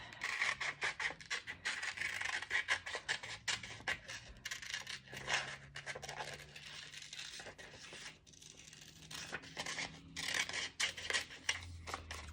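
Scissors cutting a stocking outline from paper, a close run of crisp snips and rustling paper, repeated in quick irregular bursts with the sheet shifting between cuts.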